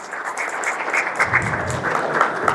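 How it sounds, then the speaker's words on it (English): An audience greets a speaker arriving on stage with applause, a dense, steady wash of many hands clapping that holds at even loudness throughout, heard from within the crowd. "give a big round of applause"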